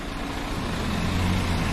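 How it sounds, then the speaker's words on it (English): A vehicle engine runs steadily nearby, a constant low rumbling hum with no other sounds. "I can hear the engine."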